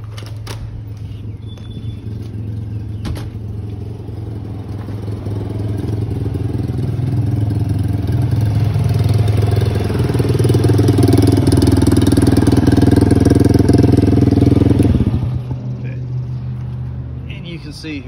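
A Tao Tao DBX1 140cc dirt bike with a gutted muffler idles close by, a steady low rumble that swells louder and rougher partway through before cutting off near the end.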